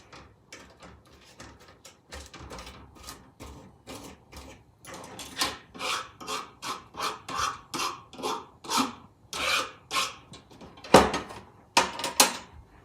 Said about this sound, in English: I sort of scrape all the little pieces back into a pile and then mash